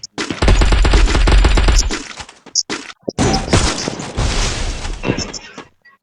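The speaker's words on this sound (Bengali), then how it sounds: "একটা স্নাইপার শট" Video game gunfire, a sniper-style weapon: a loud sustained burst of rapid shots, a few isolated cracks, then another long volley trailing off, with voices mixed in.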